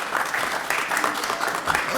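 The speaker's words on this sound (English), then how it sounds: "Big round of applause for Happy Mother's Day," A congregation in a church claps for a Mother's Day round of applause during a Sunday service, a dense, steady patter of many hands lasting throughout.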